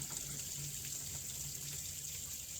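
Water draining from a pot of cooked macaroni for macaroni salad, a steady hissing pour that runs unbroken and fairly quiet throughout, with no voices.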